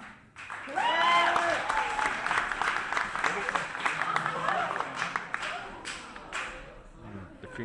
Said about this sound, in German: wir brauchen einen besonders dicken Applaus für die Startnummer 9